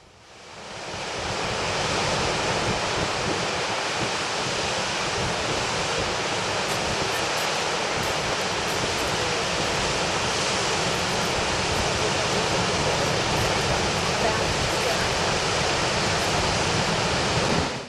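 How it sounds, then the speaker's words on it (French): The upper cascade of Gullfoss waterfall in Iceland, an 11-metre drop pouring over a wide front, heard as a loud, dense, continuous roar of rushing water that fills the whole stretch without letting up. "La cascade supérieure, haute de 11 mètres, déverse son flot tumultueux sur une grande largeur."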